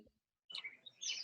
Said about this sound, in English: I can hear the birds in the trees.